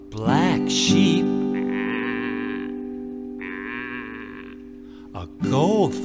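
A sheep bleats loudly twice, with wavering quavering calls near the start and again at the end, separated by a quieter tonal stretch of music-like sound in a children's English lesson.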